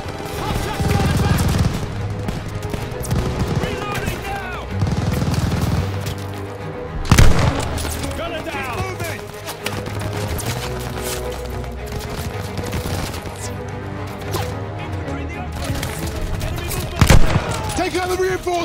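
Machine gun fire in a WWII video game as a half-track's MG gunner is pinned down, steady bursts of automatic gunfire with heavier booms mixed in, loud and continuous, with voices shouting over it.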